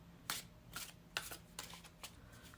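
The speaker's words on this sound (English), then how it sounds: "Again, let's shuffle with intention." A deck of tarot cards being shuffled, with several distinct riffling bursts close by and brief pauses between them, with no talking.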